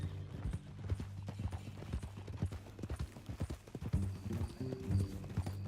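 Horse hooves clip-clop in a steady walking rhythm in the video game Red Dead Redemption 2, quiet and close, with faint ambient sounds around them.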